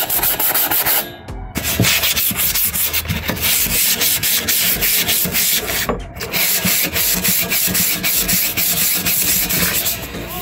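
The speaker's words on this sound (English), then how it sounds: "sandpaper, brush it down, and put some primer on it." Sandpaper rubs hard and fast against a metal mini bike part being prepped for primer, a loud continuous scratchy rasp in close-up strokes with two brief pauses.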